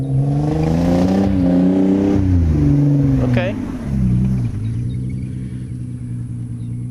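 A Nissan 300ZX Z32 drifts on grass, its engine droning loud and close with rising and falling revs, a brief sharp squeal midway, and a short spoken word over the steady engine roar.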